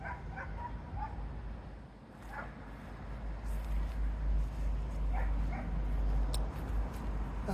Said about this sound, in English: I hope you guys can disregard the noise from the dogs.